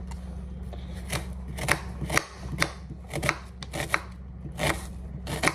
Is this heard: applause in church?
no